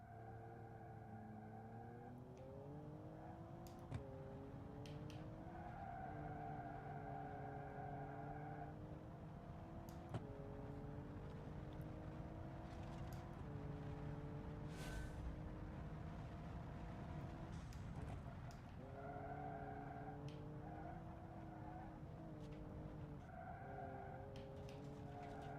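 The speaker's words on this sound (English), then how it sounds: "When the engine hits its stride though, we're really moving." Race car engine in a racing game revs steadily through repeated upshifts, the pitch climbing and dropping with each gear over a continuous loud drone, with brief tire squeal bursts and no talking.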